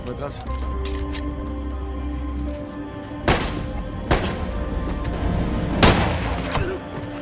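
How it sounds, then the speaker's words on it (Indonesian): Gunfire in a film scene, shooting in random directions, with three sharp, loud shots spaced a second or two apart over a steady narrating voice and background sound. "Ia kemudian meminta Miguel yang berada di dalam untuk menembak ke sembarang arah sebagai pengalihan"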